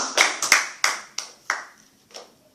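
A church congregation claps in acclaim of Jesus, six or so sharp, close hand claps in an uneven rhythm over a couple of seconds, the last one softer.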